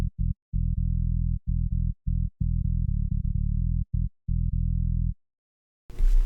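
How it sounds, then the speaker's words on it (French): Distorted electronic synth tones shaped by FabFilter Saturn multiband distortion play in choppy, gated bursts with short gaps, loud and close, ending in a brief silence and then a noisy hit. "j'ai rajouté un FabFilter Saturn qui va me permettre d'appliquer une distorsion au son selon des bandes de fréquences"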